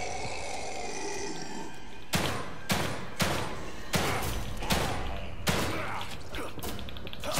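A pistol fires about seven sharp, loud shots at a steady pace in The Evil Within 2, following a couple of seconds of low ambient hum.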